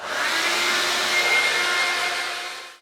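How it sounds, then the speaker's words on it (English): A handheld hair dryer blasts air through hair during styling, a steady, loud broadband whoosh with a whining motor tone held for nearly three seconds before it begins to fade. "I kind of just blast it all over to just get the air running through my hair"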